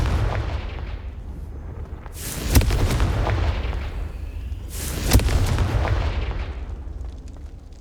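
Two heavy booming blasts from the Confringo spell in Hogwarts Legacy land a few seconds apart, each a sharp loud crack followed by a rumbling low tail over a steady background roar.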